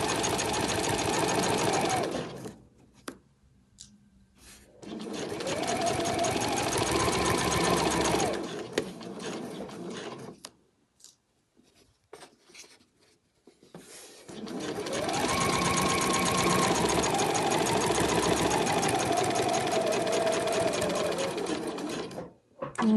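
A sewing machine stitches down a card pocket on a fabric travel wallet in several long, steady bursts of whirring separated by pauses with small handling sounds.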